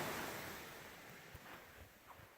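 Surf washing onto a beach beside a beach hut on a bright day, a steady soft wash of breaking waves with light wind noise, fairly quiet and distant with no talk.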